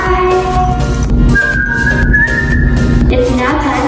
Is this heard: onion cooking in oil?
no